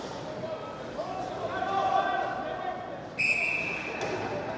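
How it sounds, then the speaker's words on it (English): Referee's whistle at a Troy vs Beavercreek high school ice hockey game, a sharp shrill blast cutting in after a high stick, over a noisy rink crowd and a commentator's voice. "They blow the whistle."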